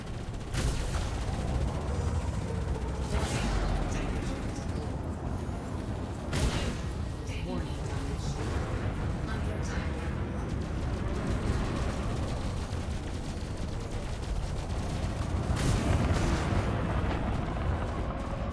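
Video game gunfire and artillery crackle and boom repeatedly in dense bursts, with several louder blasts standing out against a constant din of shooting.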